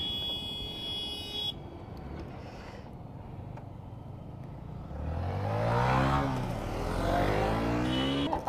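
Engines of a 900cc motorcycle and a 1000cc Kawasaki ZX10R rev up nearby, a steady idle rumble that swells into a loud, rising rev in the second half before easing, with a brief tonal beep at the start.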